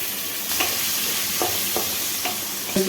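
Onions fry with whole cumin and garam masala, a close, steady sizzle broken by a few soft spatula stirs at regular intervals, no voices.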